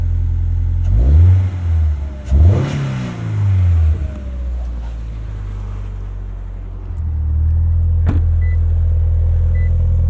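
A 2022 Subaru BRZ fitted with an MRT axle-back exhaust, heard in cold weather after a short drive, gives two deep revving swells early on, then drops back to a low, steady rumbling idle.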